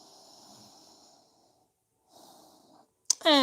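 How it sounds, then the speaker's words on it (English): Nasal breathing during a yoga session: a few soft, airy inhales and exhales through the nose separated by brief silence, ending in a short louder burst of sound. "Breathing through your nose."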